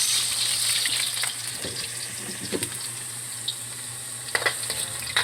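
Pork ribs and potatoes fry in a pan with a steady close sizzle, a low hum underneath and occasional stirring clinks and crackles.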